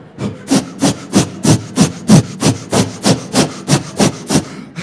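A stand-up comedian mimics an eraser scrubbing hard on paper with about fourteen loud, even, rhythmic rasping strokes, close and alone without speech.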